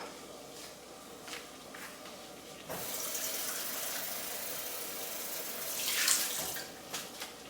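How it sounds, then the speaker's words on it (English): Filtered water runs slowly from a refrigerator door dispenser into a container in a home kitchen, a steady moderate stream lasting several seconds after a few soft handling knocks. "So here we go back to my filtered water in my refrigerator."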